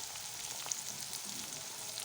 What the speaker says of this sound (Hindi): अब इसमें थोड़ी सी हम तेल शामिल करते हैं, तकरीबन आधा चम्मच